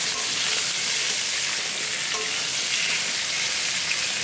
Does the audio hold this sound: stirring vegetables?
yes